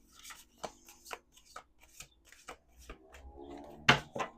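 Tarot cards are shuffled by hand at close range, a series of soft separate riffles and slides, quiet and irregular, ending with a couple of sharper snaps.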